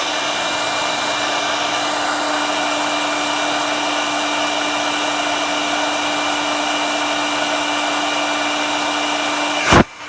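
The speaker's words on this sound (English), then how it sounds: "I'm gonna heat it up with a hairdryer." A hair dryer blows steadily at close range onto a breadboard mood-ring circuit with SPI LEDs, a constant whooshing hum with a fixed whine that holds unchanged for about ten seconds before cutting off abruptly at the end.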